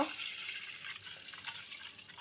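A glass of water poured into an iron pot holding rice, a close, steady splashing trickle lasting a couple of seconds.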